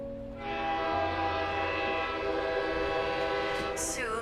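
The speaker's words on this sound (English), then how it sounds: "there's a loud whistling as the fully loaded train lurches into motion, gradually picking up speed as it pulls out of the tiny supply station" A loud, sustained whistle from a fully loaded train departing a tiny supply station in the video game Girls' Frontline 2 sounds steadily, with rail rumble beneath as the train lurches into motion.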